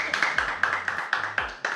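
A small panel audience at a London tech event claps in a sparse, uneven patter of separate hand claps, close and moderately loud, with a few stronger bursts and no talking.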